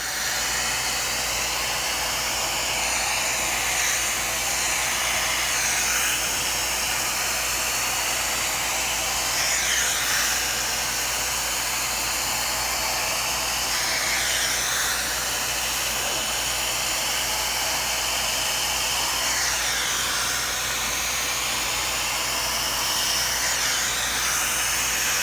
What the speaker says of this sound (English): we'll vacuum it off and see how it looks